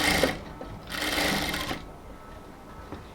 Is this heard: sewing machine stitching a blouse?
yes